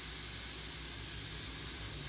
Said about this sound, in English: let him spray over my hands